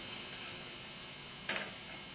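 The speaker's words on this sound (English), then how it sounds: "Polish the shaft on both ends." A starter shaft from a 10MT starter is polished with Scotch-Brite, giving a soft, continuous rubbing scrape at close range with a couple of brief, sharper swipes.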